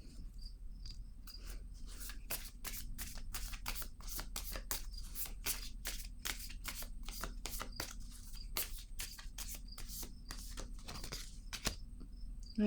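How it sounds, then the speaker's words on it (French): Tarot cards being shuffled by hand, a close series of quick crisp riffling snaps in a steady rhythm over a faint background hum. "Je vais piger une autre carte."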